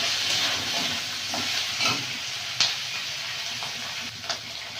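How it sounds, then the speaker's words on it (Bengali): Fish heads and chopped onions sizzle and hiss steadily in hot oil, fairly faint, with occasional stirring clinks and scrapes. "ভালো করে একটু ভেজে নেবো"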